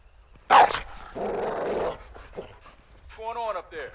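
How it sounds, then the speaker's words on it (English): A caged dog in the Call of Duty Modern Warfare 2 video game gives a sharp bark followed by rough growling and whimpering huffs, loud and near, with a few short vocal bursts after. "Do you see the caged dog?"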